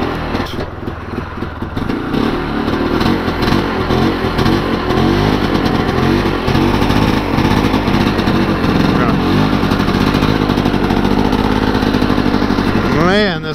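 A Polaris Scrambler 400 ATV engine with a carburetor needing tuning runs loud and close, a steady rough rumble with revs rising and falling throughout and a sharp rev at the end.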